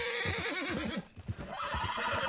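A horse in Red Dead Redemption 2 whinnies loudly in two drawn-out, wavering neighs with a brief pause between them.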